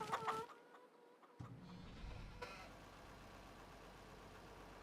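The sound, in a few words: chickens clucking in Farming Simulator 25 video game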